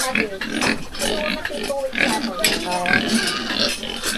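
Several pigs in a pen on a Philippine farm grunt and snort continuously and close by, in a busy, overlapping chorus.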